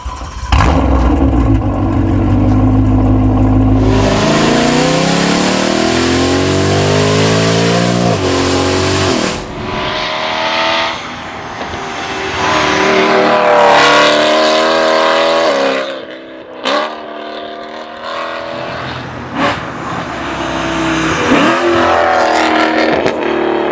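A BMW E92 M3 engine revving hard and accelerating through gears, loud and close, with rising pitch sweeps and brief dips between shifts.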